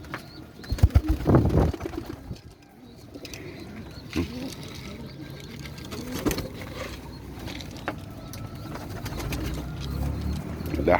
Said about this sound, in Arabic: ده حمام لاحم